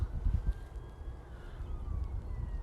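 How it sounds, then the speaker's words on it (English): A police siren wails faintly in the distance beside the bank of the River Ribble, its slow rising and falling tone drifting over quiet outdoor ambience. "we get a police siren in the background"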